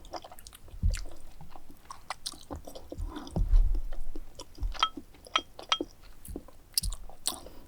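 Braised soy-sauce eggs being chewed close up, with soft wet squishes and small bites arriving irregularly, and no talking.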